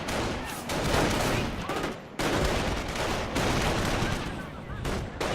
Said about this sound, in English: 3 Volksgrenadiers firing on this one rifle squad